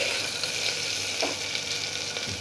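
Green chilies frying in a pan give a steady, close sizzle and crackle with faint stirring scrapes, with no talking.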